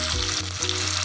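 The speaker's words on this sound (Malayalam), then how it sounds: "നമുക്ക് നല്ലതുപോലെ ഇളക്കി ഒന്ന് മിക്സ് ചെയ്യാം" Potato curry with coriander leaves sizzles in a pan while being stirred, a loud continuous frying hiss with brief scraping pulses from the spoon.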